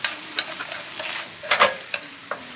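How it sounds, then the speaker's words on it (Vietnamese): Small shrimp stir-fried in a pan, heard as scraping stirs and light sizzling, a run of close, irregular bursts with no talk. "Rồi em xào dừa xăng thôi, không cần chín."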